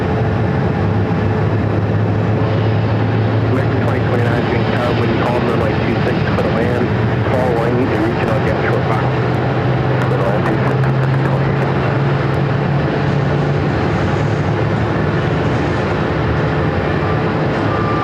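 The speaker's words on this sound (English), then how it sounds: "American Airlines flight 2829, coming in from JFK. It's a brand new 737 MAX 8" A brand new Boeing 737 MAX 8 airliner, an American Airlines flight, lands at Phoenix airport with a loud, steady jet roar that stays constant throughout, with no voices.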